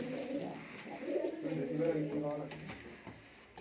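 Fancy pigeons coo in a loft, a running pair of male and female with cut-feathered legs, their soft rolling calls rising and falling close by under someone talking.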